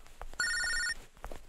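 A telephone rings in a Malayalam film scene: one loud electronic ring burst of about half a second, with a steady tonal warble, rising out of quiet room noise and then stopping.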